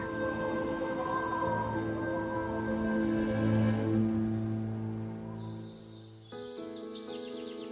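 Springtime birdsong plays as a storybook sound effect: several birds whistle and chirp in sustained tonal phrases, moderately loud and close, with a burst of rapid high twittering near the end.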